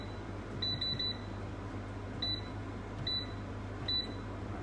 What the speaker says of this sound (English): let's have a go at turning this air fryer on